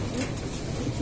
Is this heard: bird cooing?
yes